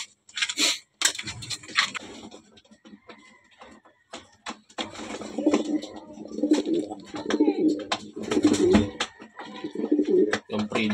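Racing pigeons coo in soft, repeated throaty bursts from close by, mixed with scattered wing flaps and clatter in the loft, and a little background talk.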